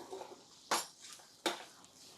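Two sharp scraping clanks of a spoon against a pot, spaced under a second apart, as coconut rice with salt is stirred and turned over; soft background noise between strokes, no talking.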